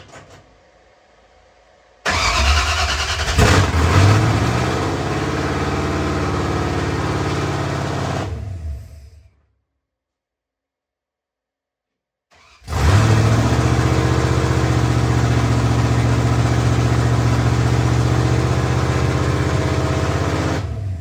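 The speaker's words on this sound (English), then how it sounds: "finally firing up the engine for the first time" A 1966 Ford Falcon with a cammed 302 V8 cranks and fires into a loud, lumpy idle, cuts out to silence for a few seconds, then restarts and settles back into a loud, rumbling idle.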